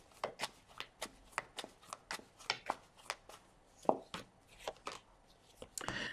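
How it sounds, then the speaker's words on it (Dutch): Tarot cards being shuffled by hand, a run of crisp riffling snaps and soft slaps that come in uneven bursts, close and fairly quiet, with no talking. "Dus dan een kaarten schudden om te kijken wat week 49 gaat brengen."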